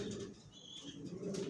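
Racing pigeons in a loft coo softly and rustle nearby, low murmuring calls with faint wing and movement sounds, quiet and close.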